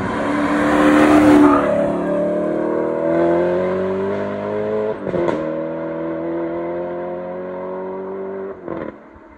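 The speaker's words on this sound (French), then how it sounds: "profiter du son du moteur" An Alfa Romeo 8C V8 engine revs and accelerates continuously, pitch climbing steadily through a couple of gear changes, loud and near with no talking.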